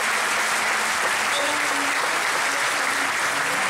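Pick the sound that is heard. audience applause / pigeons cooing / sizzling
audience applause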